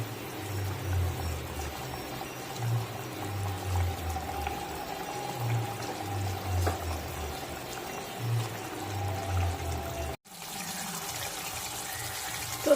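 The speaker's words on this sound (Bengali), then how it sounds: "ঝোলটা ফুটে গেছে, আমি ভেজে রাখা মাছগুলো দিয়ে দেবো এক এক করে।" Pieces of fried rui fish go into a pot of boiling kalia gravy, giving a steady wet pouring and bubbling sound that runs close and continuous, with a brief drop-out near the end and no talking.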